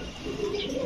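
Fancy racing Giribaz pigeons at a shop, cooing softly in a low, steady murmur for under a second, with faint background noise around them.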